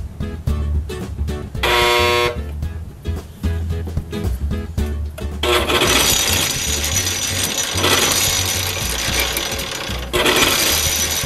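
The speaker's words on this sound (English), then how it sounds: "See the direction the gears are turning?" Gears turning on a workshop machine: a steady mechanical whir with a brief, bright tonal whine, then a louder, dense grinding rumble that runs on to the end, with no talking.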